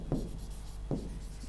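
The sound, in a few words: writing on a board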